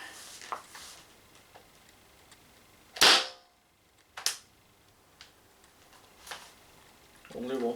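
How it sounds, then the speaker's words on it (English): An Umarex TC68 CO2 gun fires a single sharp crack, loud and close, among faint clicks and mechanism noises, with another sharp snap a moment later. "Only one shot fired"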